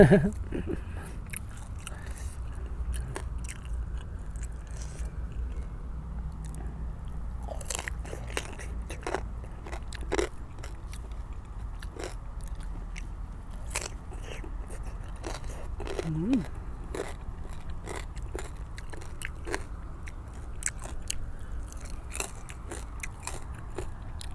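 Crispy fried pork belly is bitten and chewed close up, giving repeated sharp crunches and crackles at an irregular pace over a quiet background, with occasional soft vocal sounds.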